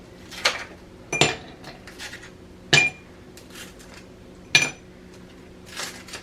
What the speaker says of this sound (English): So I fill up the glass completely with ice when it's warm.